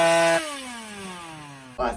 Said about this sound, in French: je vous mets une image d'une moto trop pauvre